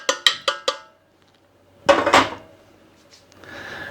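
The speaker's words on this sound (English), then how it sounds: "I'm going to take my chili and stir it around" Spoon clanking against a pot while chili is stirred, four quick metallic clinks, then a pause before a louder scraping rattle, with faint bubbling or stirring sound after.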